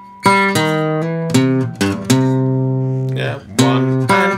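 Acoustic guitar plays a fingerpicked blues riff, alternating bass notes between C and low G in a steady bouncing rhythm of distinct plucked attacks, close and clear with no talking.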